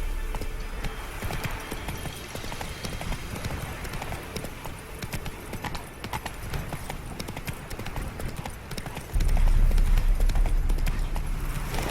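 Roach, the horse in The Witcher 3, gallops with fast, continuous pounding hoofbeats close by, growing louder and heavier near the end, with no clear talking.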